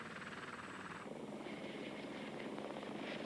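A Lockheed AH-56 Cheyenne attack helicopter with a pusher propeller maneuvers nearby, giving a steady throbbing rotor drone with a constant engine whine that holds level throughout.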